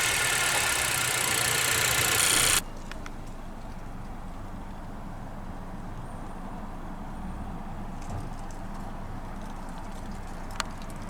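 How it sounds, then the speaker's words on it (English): A 2024 Honda Civic Touring engine catches with a brief loud rush after a push-button start, then settles into a low, steady idle that continues to the end. "let's go ahead and start the engine"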